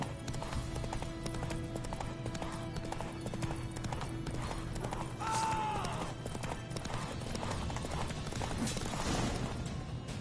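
Horse hooves clip-clop at a steady galloping pace in The Witcher 3 game, loud and continuous, with a brief whinny partway through over a low ambient bed.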